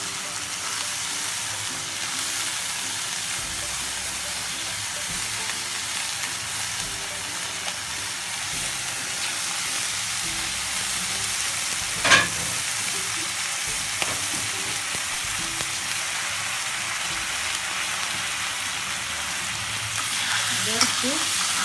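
Milk frying and being stirred in a pan for khuder bhat, a broken rice dish, giving a steady, continuous sizzle with occasional scrapes and knocks of the spoon, no voices.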